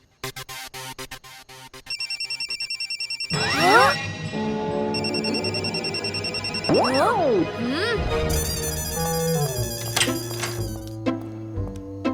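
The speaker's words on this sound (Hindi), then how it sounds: "मैं दादाजी के फोन पे कॉल करके उन्हें जगाता हूँ।" Telephone ringing in a 3D animated Taarak Mehta Ka Ooltah Chashmah cartoon, a repeating electronic trill that is loud and close, heard in bursts alongside cartoon sound effects, music and voices.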